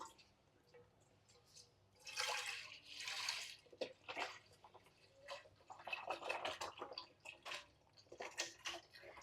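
Lacnor full cream milk poured into a heated pan, giving soft splashing and trickling bursts of liquid, close and moderately loud, in several separate pours across the stretch with quiet gaps between them.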